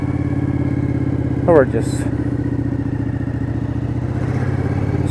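Motorcycle engine hums steadily at a mid pitch while riding to work, running continuously beneath a voice that speaks briefly.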